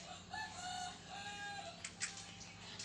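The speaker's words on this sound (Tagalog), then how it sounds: "yung manok amin dun sa baba, nagkukurok-kurok na." Chickens cluck and murmur softly in the distance, a few faint calls drifting over a quiet outdoor background.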